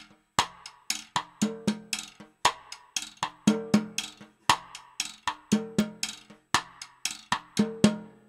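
A single drum plays a cha cha cha groove with an extra cross-stick click added on the and of three, giving a steady, crisp pattern of sharp woody hits and tonal drum strokes repeating evenly and up close, with no voices.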